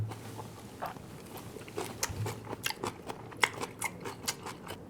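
Crunchy bites and chewing of kimchi during a taste test, a steady run of close, irregular crisp crunches with no talk.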